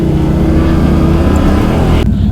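A Can-Am Outlander 850 XMR ATV with a suspected misfire revs loudly and steadily close by, its engine note holding rough and constant before cutting to a lower idle near the end.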